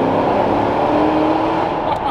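A stock Ford GT accelerating hard inside a tunnel, a loud, sustained engine roar that echoes off the walls and stays close and steady throughout.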